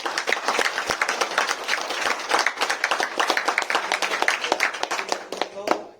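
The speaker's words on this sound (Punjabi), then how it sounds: "ਘੱਟੋ ਘੱਟ ਇੱਕ ਜ਼ੋਰਦਾਰ ਤਾੜੀ ਆਪਣੇ ਲਈ ਵੀ ਮਾਰ" An audience at a street play claps in a dense, continuous burst of applause lasting several seconds, while voices carry over the clapping.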